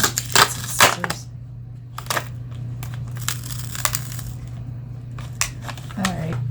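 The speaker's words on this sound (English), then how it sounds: "Get some scissors." Scissors snip and crunch through cardboard in a few sharp cuts, close by, with rustling and pauses between strokes.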